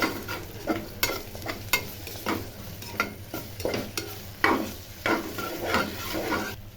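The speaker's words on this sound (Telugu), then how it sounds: "ఈ అల్లం పేస్ట్ కూడా పచ్చి వాసన పోయేంత వరకు వేయించుకోవాలి" Ginger paste sizzling in hot oil in a pan, stirred with a spoon in a steady run of scraping strokes over a continuous close frying hiss, no voices.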